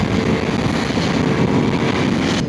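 Ducati Multistrada V4S motorcycle accelerating in fifth gear, a continuous low engine drone heavily buffeted by loud wind noise, with no talk.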